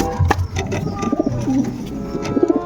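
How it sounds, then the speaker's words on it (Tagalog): Racing pigeons coo repeatedly close by, a soft throaty rolling call that rises and falls in bursts over a low background hum. "Ayan mga kalapatids"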